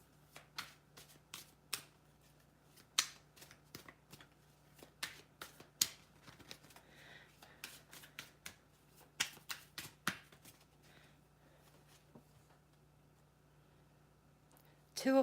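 Tarot cards being shuffled, crisp irregular riffles and slaps close by in a quiet room, bursts spaced through the stretch with a faint steady hum beneath.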